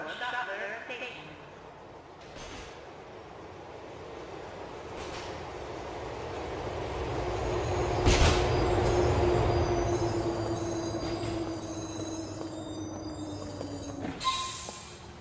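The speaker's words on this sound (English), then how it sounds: "The train approaching is the 3 train bound for Shuttler Station." Subway train in Grand Theft Auto 4 pulling into a station: a steady rumbling roll builds and peaks midway, a long wheel squeal glides across it, and a sharp clank lands near the end as it stops.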